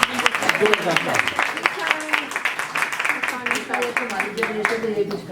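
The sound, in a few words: audience applause requested by host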